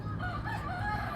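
A rooster crows once, somewhat distant and soft, its drawn-out call rising and falling over a noisy background.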